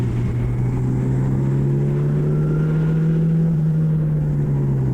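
A historic Formula Ford single-seater accelerating on a race track, its engine a loud, steady close-up drone that rises gradually in pitch over several seconds.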